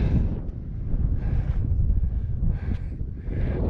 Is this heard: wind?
yes